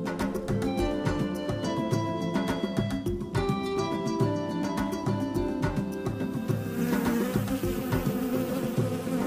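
A bee buzzing during a children's preschool church program; a continuous, loud, layered buzz with shifting harmonic tones that runs throughout without speech.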